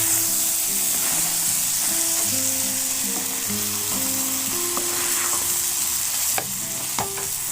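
Spicy beef innards frying in oil in a pan, a loud continuous sizzle with intermittent stirring scrapes and clinks of a utensil, close up and without talk.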